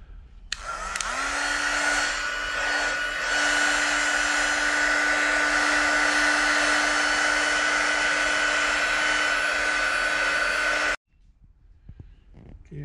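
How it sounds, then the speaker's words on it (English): Heat gun blowing over model railroad scenery, a loud steady whine-and-rush that spins up quickly and runs evenly for about ten seconds before switching off, followed by faint handling noises. "I'm going to run the heat gun over all this and get all these little nibs tightened up"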